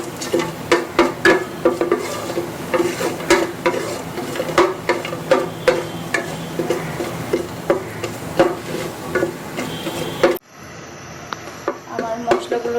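Bay leaves, cinnamon and cardamom frying in oil in a pan, a soft sizzle under rhythmic scraping and tapping of a stirring utensil, close up, stopping abruptly near the end and leaving a faint quiet hiss.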